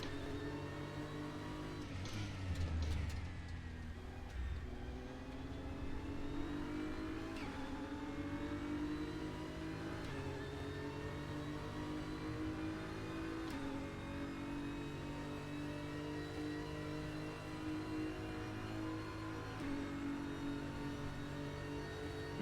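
A GT3 race car engine in a racing video game at Daytona, revving hard and shifting through gears with a continuous rising and falling drone, loud and close throughout.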